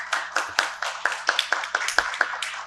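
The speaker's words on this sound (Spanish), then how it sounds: "Un aplauso, por favor." A small audience at an international seminar on neurolaw and human rights claps in a steady run of about a dozen crisp, evenly spaced hand claps, fairly close and alone.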